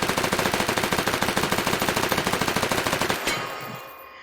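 Rapid submachine gun fire in the H3VR virtual reality shooter, a steady stream of sharp shots lasting about three seconds before cutting off into a short fading echo.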